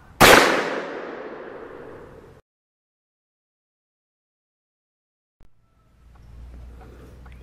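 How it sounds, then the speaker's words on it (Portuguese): A single sharp rifle shot from a scoped .17 HMR, loud and close, with a long decaying tail, followed by silence and then faint low background noise. "Primeiro disparo."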